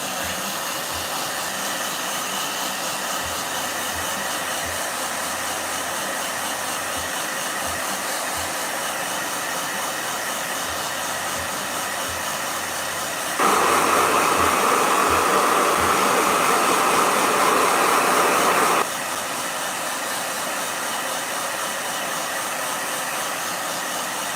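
A blow dryer runs steadily and fairly close, a constant airy whoosh that grows louder and harsher for several seconds midway before settling back to its earlier level.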